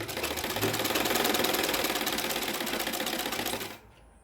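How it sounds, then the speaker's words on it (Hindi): A sewing machine runs steadily while stitching blouse fabric, giving a fast, even mechanical rattle that carries at moderate loudness for several seconds before stopping abruptly near the end. "अब इसको इस तरह से सिलते हुए आएंगे।"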